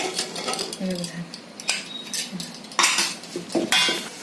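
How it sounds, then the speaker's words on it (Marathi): A few sharp metallic clanks and scrapes of a pressure cooker lid being handled and opened, close by, with brief pauses between the knocks; the cooker holds chole masala. "आता मी कुकर उघडते बघा"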